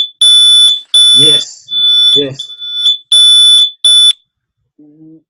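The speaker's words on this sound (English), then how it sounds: "Smoke alarm is going off in Cleveland." A high-pitched smoke alarm beeps in loud repeated bursts in Cleveland, with someone briefly speaking between the beeps.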